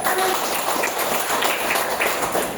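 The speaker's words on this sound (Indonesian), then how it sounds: "tepuk tangan dulu." Audience applause at an Islamic religious talk, a dense steady patter of many hands clapping at moderate level, continuous throughout with no clear voices over it.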